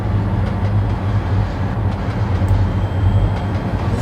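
Railroad cars on a moving train in the Trainz simulator, a steady loud rumbling roll with low droning hum and faint rattling throughout, no voices.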